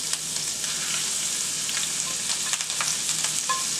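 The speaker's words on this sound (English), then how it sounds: "so I'm just going to go ahead and add the shrimp" Shrimp sizzles in a pan with garlic over a medium flame: a steady, bright frying hiss with scattered crackles and pops, close and continuous throughout, with no talking.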